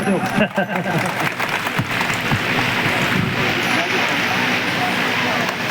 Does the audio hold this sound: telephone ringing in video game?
no